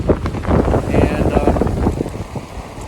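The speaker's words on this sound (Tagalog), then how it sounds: "grabe ka kusog sa hangin." Strong wind buffets the microphone on a lakeside hiking trail at Leslie Street Spit in Toronto, a loud rumbling gust with a faint voice underneath.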